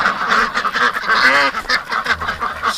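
Ducks quack and honk continuously in a loud, close flock, overlapping calls with no pauses.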